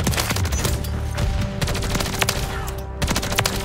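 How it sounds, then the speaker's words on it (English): Rapid gunfire in the video game Call of Duty MW3, dense bursts of loud close shots firing in quick succession throughout, with other game sounds in the background. "I love the sound of this gun"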